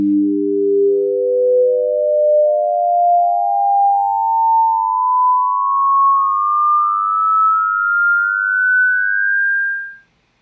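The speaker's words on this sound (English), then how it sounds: "let's go back to the example of the harmonic series and listen again" Pure sine tones climb step by step through a harmonic series of overtones, each note held briefly in a steady rising sequence, loud and alone with no talking.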